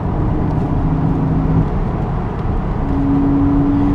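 Porsche Cayman 987 second-generation engine pulling steadily at about 3,500 RPM, a continuous loud low drone heard from inside the car with road and cabin rumble throughout.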